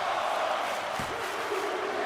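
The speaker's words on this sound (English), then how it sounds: "The crowd enjoying this main event between the two." The in-game arena crowd at a WWE 2K24 wrestling main event roars as a continuous, broad wash of cheering noise, with a brief low thud partway through.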